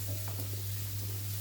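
A faint, brief sizzle of turmeric and chilli powder sautéing in a pan for a mixed vegetable mezhukkupuratti, soft crackles over a steady low hum.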